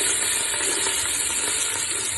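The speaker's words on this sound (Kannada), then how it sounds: "ಎಣ್ಣೆ ಬಿಸಿ ಆದ್ಮೇಲೆ ಈರುಳ್ಳಿ ಹಾಕೋಣ" Five to six onions frying in plenty of hot oil for a goat blood semi-gravy, a loud, dense, continuous hiss and crackle heard close up with no pauses.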